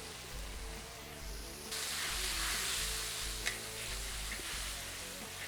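Butter sizzling in a hot pan with rosemary sprigs and unpeeled garlic cloves, a soft steady frying hiss that swells and brightens partway through, close and quiet with no talking.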